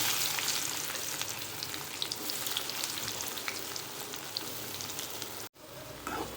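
Onions frying in hot oil in a pan for a Tamil tomato thokku give off a dense, steady, close crackling sizzle that runs unbroken, with a brief dropout near the end before it resumes.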